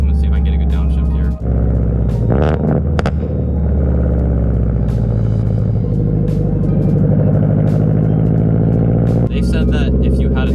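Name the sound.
Subaru BRZ with JDL headers and Tomei exhaust downshifting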